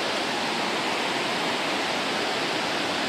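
Water rushes through a canal feeder channel in a dense, steady roar of broadband noise, loud and close, with no voices.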